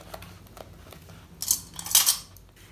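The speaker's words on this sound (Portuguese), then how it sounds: "eu vou clipar aqui a volta todinha, até o canal se encontrar com o folha" Scissors clip into a fabric seam allowance while sewing a zippered pouch for headphones and a charger, giving two crisp, close snips in quick succession against a quiet background.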